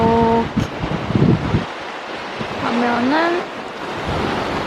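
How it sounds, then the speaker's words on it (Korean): Ocean waves rushing and washing steadily in a loud, broad roar on the west coast of Jeju, with a voice speaking briefly over the surf. "이 파도 소리가 너무 좋지 않아요?"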